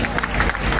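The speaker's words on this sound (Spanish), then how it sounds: "Vamos a dar un aplauso a Dios por las personas que vienen pasando" Brief burst of applause from a church congregation during an evangelical sermon in the Dominican Republic, a dense wash of clapping hands that fills the whole moment at steady loudness.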